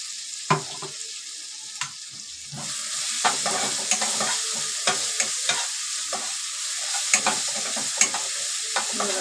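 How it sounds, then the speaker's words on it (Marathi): Chutney paste for vada pav frying in hot oil in a pan on low heat, a constant soft sizzle and hiss with irregular scraping clicks of a spoon stirring and tapping the pan, close by and without talk. "पेस्टी याच्यात टाकायचे त्याला चांगली परतून घ्यायचे"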